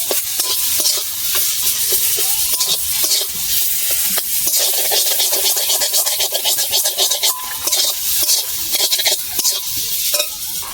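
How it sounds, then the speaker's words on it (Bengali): Spoon stirring mango and egg sour curry in a pan, a steady scraping and sizzling with irregular clicks and scrapes throughout, close and fairly loud, no voices. "দু চামচ মিষ্টি দেব, 1 চামচ, 1 চামচ ভালো করে নেড়ে চেড়ে নেবো।"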